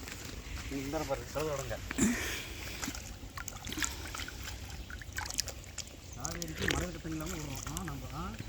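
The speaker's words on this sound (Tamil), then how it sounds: "சூப்பராக தண்ணி போயிட்டு இருக்குது கர் கர் கர் கர்னு" Natural herbal spring water runs and trickles steadily nearby, a continuous gurgling flow heard beneath frequent close conversation.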